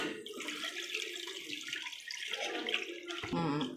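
Water from a tap or jug poured over fish pieces for a home-style fish curry, a continuous splashing stream lasting several seconds, close by and alone.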